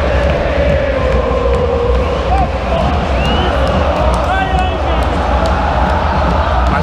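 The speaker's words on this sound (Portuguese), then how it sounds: "Recomeça o segundo tempo e a torcida do Grêmio esboça uma cantoria." Grêmio supporters in a football stadium crowd, a broad roar with loose chanting in the background while someone talks over it.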